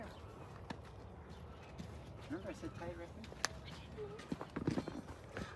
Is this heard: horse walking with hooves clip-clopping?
yes